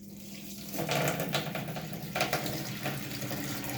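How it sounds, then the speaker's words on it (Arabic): Hands are rubbed and rinsed under a running tap into a sink, a steady close water rush with splashy surges as the hands move through the stream. "اغسل ايدي واجيلكم"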